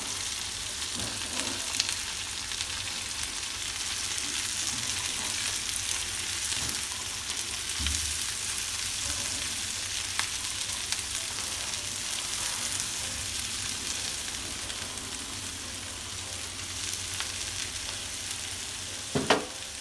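Green beans and tempeh stir-frying in a pan, a steady close sizzle throughout with occasional scrapes and clatters of stirring, no voices.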